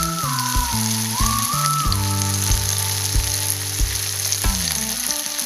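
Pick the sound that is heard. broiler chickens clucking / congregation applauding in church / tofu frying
tofu frying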